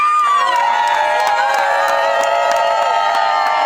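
Wedding guests at a ceremony for filmmaker artists cheer, whoop and shout loudly, a dense crowd of voices with scattered claps rising together right after the vows, close and continuous throughout.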